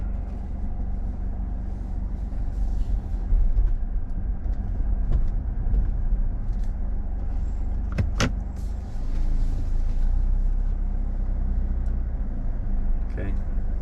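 A 2020 Infiniti QX50 Edition 30 driving slowly around a block, with a steady low engine and road rumble inside the cabin, a couple of sharp clicks partway through, and a person talking over it.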